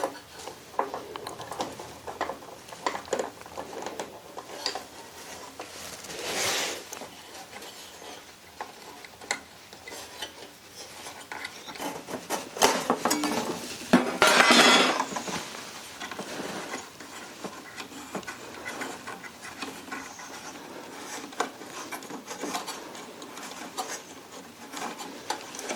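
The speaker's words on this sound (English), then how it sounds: "And now just working the jack into place." A metal jack is worked into its workshop-made bracket on a 1/6-scale Armortek Panzer IV model tank, producing irregular close ticks, rubs and scraping clicks with a brief louder grinding burst midway.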